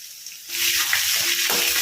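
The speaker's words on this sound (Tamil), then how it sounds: "நசுக்கி வச்சுருக்க பூண்டை நம்ம அதில் போட்டுக்கலாங்க. பூண்டு நல்ல பொன்னிறமாக வர வரைக்கும் கொஞ்சம் ஆயிலில் கொஞ்சம் இருக்கட்டும்." Crushed garlic drops into hot oil and bursts into a loud, steady sizzle close by, with low bubbling beneath the hiss, for a village-style drumstick-leaf sambar.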